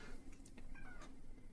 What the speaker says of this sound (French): Ah bah oui, forcément c'est un chat.